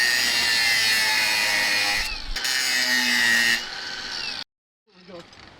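A power tool grinds through steel tabs on a manure tank, giving a loud continuous high whine that dips briefly midway, then cuts off into near silence with faint clatter.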